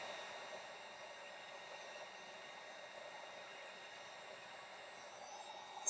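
A heat tool blows a steady, even whoosh of hot air onto embossing powder on a card, a continuous broadband hiss that stays level throughout with no talking.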